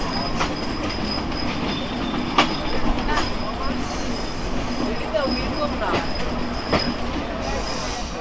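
Sundarban Express, running from Kamalapur to Khulna, pulls away from a station platform with a continuous rumble of rolling wagons, faint wheel clicks and squeals, with people talking over it.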